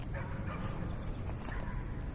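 A dog whimpers and gives faint high yips in an outdoor nature setting, quiet and brief over a steady low background rumble, with no voices.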